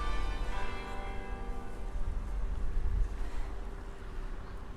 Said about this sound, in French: On entend un peu le beffroi, je ne sais pas si vous l'entendez.